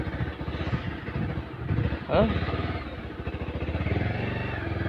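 A motorcycle rides along a hilly road in Assam, its engine giving a steady, close mid-pitched drone that rises briefly midway, with some voices faintly under the engine noise.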